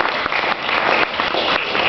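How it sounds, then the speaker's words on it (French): A poetry event audience applauds a poet with loud, dense clapping that runs without a break for the whole two seconds. "J'aimerais que vous donniez une main d'applaudissement pour Maxime"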